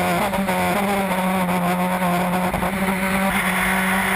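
Formula Enterprises open-wheel race cars on track at Road Atlanta, engines roaring loud and continuous with shifting pitch as cars race close by.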